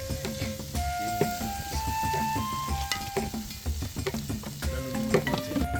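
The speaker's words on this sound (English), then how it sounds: "Add in the sliced sausages and mix again. Then, sprinkle in the scrambled eggs and toss everything together." Sliced sausages and scrambled eggs sizzle and are tossed in a frying pan with vegetables over a village fire, giving steady frying hiss with scraping utensil strokes and metallic clinks, up close and without talk.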